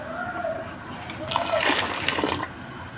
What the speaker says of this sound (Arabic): زودت كمان شويه ميه